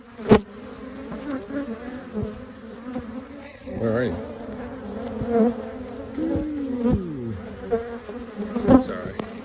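Dense buzzing of many bees swarming close around a beehive during an inspection, steady and busy, with a person speaking briefly over the hum.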